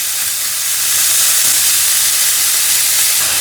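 Beef hits a pan of hot avocado oil, making a loud, steady sizzling hiss that runs unbroken throughout, with no talk.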